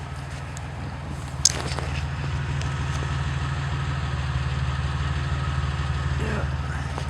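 A car engine idles with a newly replaced muffler, giving a steady, low, clean rumble that stays even throughout, with one brief sharp click early on.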